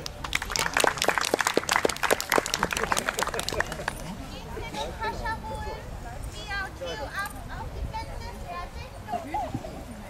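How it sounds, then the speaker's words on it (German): A burst of clapping from a crowd at an outdoor market dog obedience show lasts a few seconds, then fades as voices and background chatter take over. "Einmal bitte Applaus."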